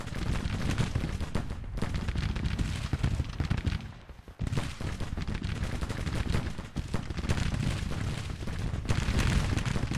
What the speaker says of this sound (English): Our skirmishers are firing into the enemy flank.